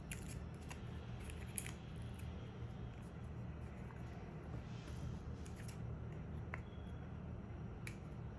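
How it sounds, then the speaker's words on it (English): Quiet snipping of scissors cutting open a wrapped paper crafting kit, a few sharp crisp cuts against a soft steady room hum, close by and with no talking. "I'm gonna grab my scissors to do this."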